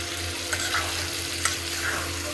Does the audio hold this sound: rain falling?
no